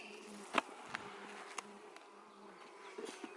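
Honey bees crowd a frame of stored food comb heavy with pollen and hum in a steady, faint, close buzz. A few soft knocks and clicks break through the drone.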